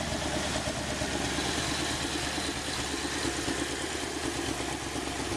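The Automixer 4 engine runs at a steady idle close to the mic, a constant mid-pitched mechanical hum with light clatter and no change in speed.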